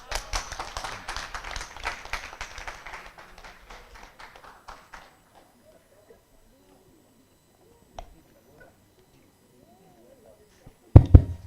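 An audience claps at the Kyambogo University STEAM Festival, a dense burst of hand claps that thins out and fades over about five seconds into near silence, with a few stray taps later.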